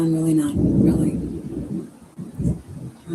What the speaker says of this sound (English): ooh, it's really coming down.